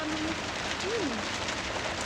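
Torrential rain falls as a steady, broadband hiss with no breaks for the whole stretch. A faint voice-like tone rises once underneath.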